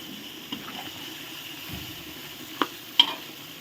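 Chicken curry with pickled bamboo shoots is stirred in a pot, with a soft bubbling hiss and a few distinct utensil knocks against the pot's side.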